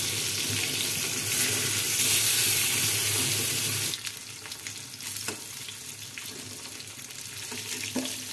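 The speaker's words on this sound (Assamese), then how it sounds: "মাছখিনি ফালে ফ্ৰাই হৈ থাকক" Fish frying in a pan sizzles loudly and steadily at close range, then drops to a quieter crackle with a few sharp pops and splatters.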